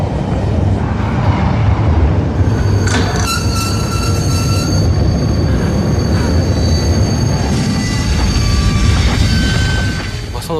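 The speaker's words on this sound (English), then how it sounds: "The rattling and vibration on the train became very violent." A train rolling along the Bermuda Railway, a loud continuous rumble and rattle of cars on the rails with bright metallic squeals rising over it, steady throughout the clip.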